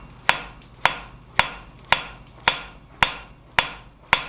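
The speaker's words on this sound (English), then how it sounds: "Hammer straight down, Jess, with the flat of the hammer" Hammer forging a leaf on an anvil: eight sharp, ringing metallic strikes at an even, steady rhythm about half a second apart, close and loud, with short decays and no talking.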